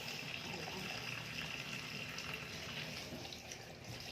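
Food being rinsed under running tap water in a home kitchen, a steady, close hiss and splash of the faucet stream that runs unbroken for the whole stretch, with no talk over it.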